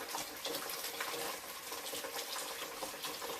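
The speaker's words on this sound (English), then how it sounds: "There's just a few cups hanging around, so I'm just gonna rinse them out." Cups being rinsed under a running kitchen tap, a steady broadband rush of water with soft splashing throughout, close and continuous, with no talking.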